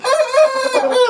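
A young rooster, a cockerel hatched in late March, gives one loud, close crow that rises and wavers for about a second with no voices over it.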